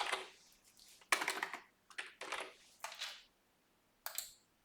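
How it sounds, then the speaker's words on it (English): Fingers typing a name on a computer keyboard in short bursts of quick clicking keystrokes separated by brief pauses, close and moderately quiet. "If I type my name,"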